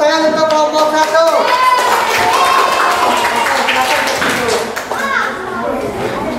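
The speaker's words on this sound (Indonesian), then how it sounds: "Tepuk tangan untuk kelompok 1" Children in a primary school classroom clap together for the first group after its presentation, a dense, lively burst of small hands mixed with excited kids' voices and chatter, fading slightly toward the end.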